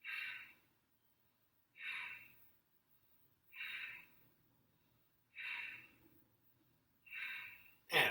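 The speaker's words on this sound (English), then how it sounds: "a short, sharp exhalation out through the nose as we find our fire breath" A person practising yoga fire breath does five short, sharp exhalations through the nose, evenly spaced about two seconds apart, each a quick close hiss in an otherwise quiet room.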